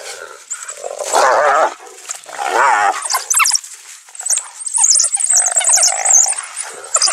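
A pack of wild dogs attacks hyenas in a loud, chaotic scuffle of snarls, growls and yelps that rise and fall at close range for several seconds.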